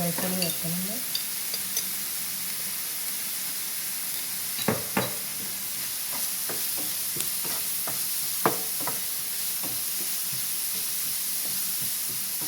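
Chopped onions fry and sizzle steadily in a pan for a stuffed squid dish, with a constant close hiss broken by occasional sharp scrapes and clacks as a spoon stirs them.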